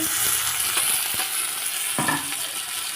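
Chopped onion, green chili and tomato frying in fish oil with cumin, dried chili and bay leaf, a loud continuous sizzle with repeated scraping stirs of a spatula close by.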